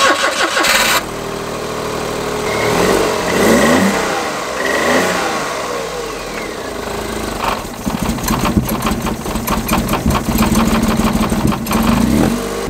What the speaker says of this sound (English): Cold start in 3, 2, 1.